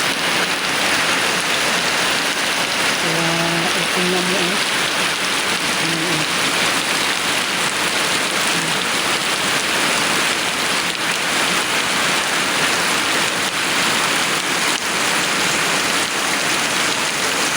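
Heavy typhoon rain pours in a dense, loud, unbroken hiss over fields and hillside, with a voice briefly speaking early on beneath the downpour.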